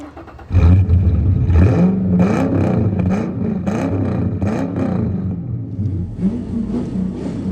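Ford Falcon XR8 ute with a 295 bhp V8 starting up and revving hard, a loud, close, deep burbling rumble with repeated throttle blips rising and falling.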